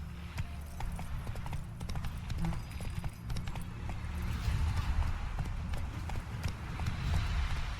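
Roach the horse's hooves clip-clop steadily at close range in The Witcher 3, with a rhythmic gait and some faint background game sound throughout.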